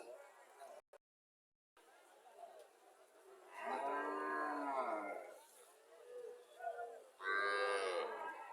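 A Sahiwal cow at Mirshani cattle market in Comilla gives two long, loud moos, separated by a quieter lowing sound.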